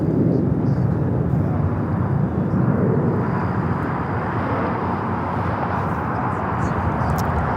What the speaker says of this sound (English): This flight, A321neo with United, flight 2488 coming in from Chicago.